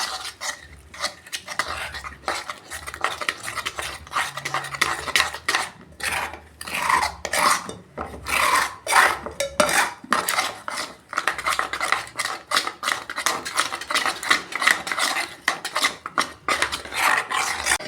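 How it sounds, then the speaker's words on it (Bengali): Garlic batter being mixed with a little water, a steady scraping and rubbing of a spoon against a bowl that keeps up a fast, busy rhythm throughout with short pauses. "এইটা আমি গুলে নেব অল্প জল দিয়ে।"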